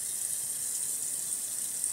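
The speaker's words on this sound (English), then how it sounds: "First, you want to fill up the pot that like almost halfway" Tap water runs steadily into a cooking pot, a continuous hiss-like splash of filling liquid, close and fairly quiet, with no voices over it.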